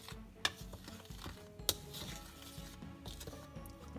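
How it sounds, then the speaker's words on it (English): A spoon mixes JELL-O slime ingredients in a bowl, making soft squelching stirs punctuated by a couple of sharp clinks against the container, close and quiet. "Go ahead and mix them all together with my spoon here"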